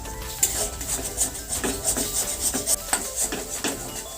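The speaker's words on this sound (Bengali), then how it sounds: "ডিমটার ওপরে এক চিমটি মতো লবণ দিয়ে এটাকে খুব ভালোভাবে আবার মিশিয়ে নিচ্ছি" Egg is stirred into cooked bottle gourd in a pan, a spatula scraping and tapping the metal in a steady series of close, distinct strokes with a faint sizzle beneath and no talking.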